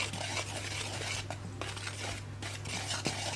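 Flour, cocoa powder and baking powder are being stirred in a bowl, making soft, irregular scraping and light clinks of a utensil against the bowl, close and quiet with brief pauses.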